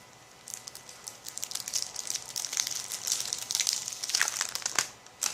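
A small plastic bag of stickers being opened, giving close, crisp crinkling and rustling that grows busier and louder before a brief pause at the end.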